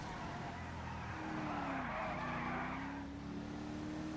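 A slow car driven in GTA 5 Online, its engine droning steadily with a rising pitch in the middle while tires skid and hiss, loud and close with no talk.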